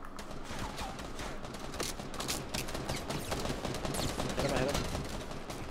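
Video game gunfire clatters in rapid, dense bursts of shots, steady and moderately loud throughout, while a player talks over the action.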